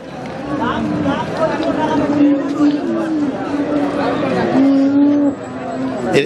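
Cows low repeatedly at the Raniganj livestock market, with drawn-out moos close by and others nearby, over a constant bustle of chatter from the crowd and people talking.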